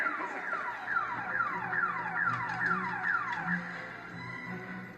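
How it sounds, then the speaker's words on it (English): A car alarm wails in repeated descending sweeps, about eight cycles at a steady loud level, before cutting out near the end. "Figuring out how to deactivate the alarm and convincing everyone that it was just a false alarm"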